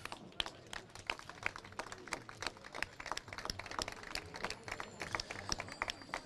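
Faint scattered applause for the mayor at a Bellaria Igea Marina presentation event, sharp individual claps popping irregularly over a quiet hall, sparse and somewhat distant.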